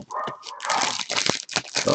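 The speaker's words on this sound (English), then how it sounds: "Dogs are mad about something." Dogs barking in a home during a live soccer stream, a dense burst of repeated barks filling the moment, fairly loud and close, with little talk over them.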